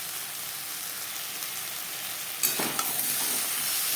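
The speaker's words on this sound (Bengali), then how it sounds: "সবজি কষাবো হাই টু মিডিয়াম ফ্লেমে" Ridge gourd and potato pieces frying in a pan over a high-to-medium flame, giving a steady close sizzle, with a brief louder burst of crackle and stirring partway through.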